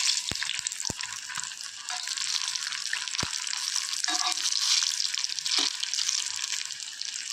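Jackfruit fritters sizzle in hot oil after being flipped, a continuous bright crackle with a few sharp utensil taps early on and some light stirring noises.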